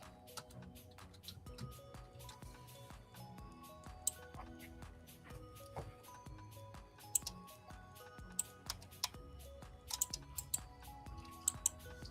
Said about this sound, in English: I'm just typing in your name and we'll get going.